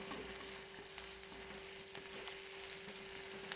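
Onions sauté in a pan for idli upma, giving a quiet, continuous, even sizzle with faint scattered crackles and no talking.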